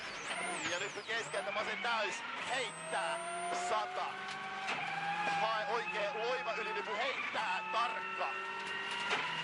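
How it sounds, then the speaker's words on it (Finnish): A rally car runs off the road at high speed and rolls over several times onto its roof, with a revving engine, skids and scraping impacts under an excited commentator's voice. "Monta kertaa auto katon kautta ympäri ja Hirvosen kisa päättyy tähän."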